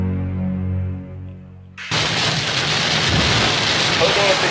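Heavy rain pours down loudly and steadily with rolling thunder, starting abruptly after a low droning hum cuts out, and keeps up as a dense, constant hiss.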